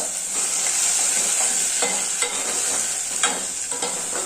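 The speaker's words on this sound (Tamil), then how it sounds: "வெங்காயம் வதங்கின உடனே இப்போ நாங்கள் காய் வச்சுருக்கேன் கேரட்டு கத்திரிக்காய் முருங்கைக்காய் இதை கொஞ்சம் கிண்டிக்கலாம்" Onions, carrot, brinjal and drumstick pieces are stirred in a pan for sambar, with a soft sizzle under repeated scraping spoon strokes.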